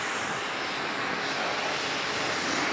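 A high-pressure washer sprays a motorcycle clean, a loud, steady hiss of jetting water that runs without pause, up close.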